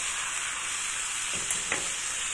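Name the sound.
stirring vegetables with rice wine in a pan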